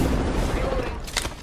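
A thrown frag grenade bursts in a shooter video game, a short rumbling explosion carrying under dense battle noise, with a brief crackling burst near the end.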